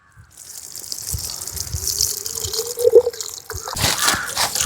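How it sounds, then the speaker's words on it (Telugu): Water drips and splashes as coconut shells are washed, building from near silence into uneven trickling and gushing, with a few clear drips and a louder burst toward the end. "నీళ్ళు తీసిన టెంకాయ పొరల్ని నీట్గా కడిగేసుకుందాం"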